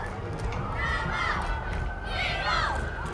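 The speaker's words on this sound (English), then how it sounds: "They're really chanting up down there." A cheer team chanting as it passes in a small-town Pioneer Days parade, a crowd of young voices shouting in rhythm over a constant low rumble of parade noise, fairly close.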